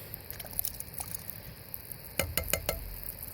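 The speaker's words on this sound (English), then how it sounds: "tomatoes are going in." Diced tomatoes tumble into hamburger meat in a hot pan, giving a soft sizzle and stir before a quick cluster of sharp clatters and scrapes near the end.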